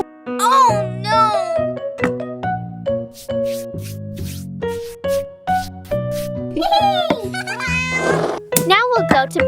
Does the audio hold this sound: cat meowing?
yes